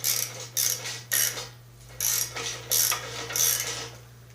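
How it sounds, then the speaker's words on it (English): A wrench ratchets in repeated bursts while breaking a nut loose on the front end of a Snapper Rider mower: about seven clicking, mechanical pulls close up, with brief pauses between them over a steady low hum. "We're going to break this nut loose and try to get this tube out of here."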